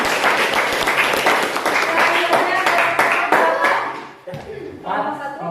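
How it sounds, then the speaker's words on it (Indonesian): A classroom of students claps loudly for a presenting group, with fast, dense handclaps that fade out near the end, followed by a voice speaking. "tepuk tangan untuk kelompok 3."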